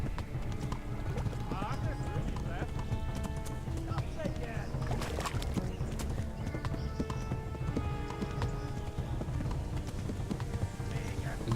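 Rapid hoofbeats of a galloping horse in Kingdom Come: Deliverance pound continuously beneath voices and other busy game sounds.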